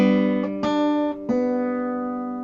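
Electric guitar playing the short pickup note leading into the intro riff: a few plucked, ringing notes with sustained harmonics, played alone and decaying slowly.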